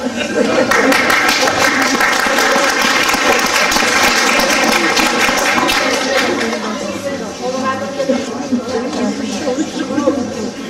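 A theatre audience applauding at the start of a show, loud dense clapping from a large crowd throughout, with voices talking over it.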